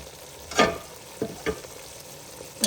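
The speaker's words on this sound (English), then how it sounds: "So now at this point, I'm adding all the koftas." Kofta meatballs drop into a simmering curry gravy, giving a few soft splashing plops and bursts of sizzle over a low background bubble, with no talking.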